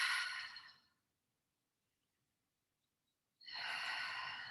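Two close, audible breaths out through an open mouth, separated by a few seconds of silence, each an airy rush that fades slowly.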